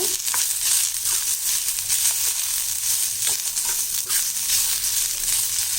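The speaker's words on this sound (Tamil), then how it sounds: "இது சும்மா ஒரு ரெண்டு நிமிஷம் வதக்கினா போதும்" Mint, grated coconut, onion and garlic saute in a hot pan for pudina chutney, giving a steady, bright sizzle with faint stirring scrapes and no voices.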